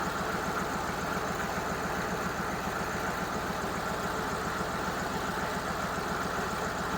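Steady, continuous idle of a CUCV 6.2 diesel engine in an M715 running low on fuel, a dense rhythmic rumble with no pauses and no talking.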